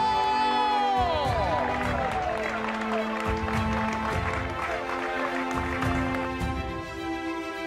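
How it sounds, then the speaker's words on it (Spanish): Applause and cheering from a crowd at a trail race trophy ceremony in Oviedo, with steady clapping and shouts that continue throughout while an announcer speaks over a loudspeaker. "¡Venga arriba el aplauso!"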